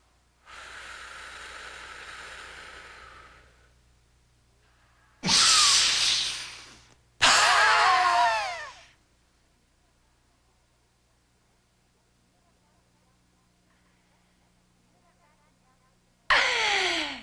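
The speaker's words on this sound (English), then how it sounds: "You hear that vacuum gasp in the end?" A sharp, noisy gasp bursts out after a held breath during a Body Flex breathing exercise, preceded by breathy exhaling and followed by another quick gasp; close and loud, no talking.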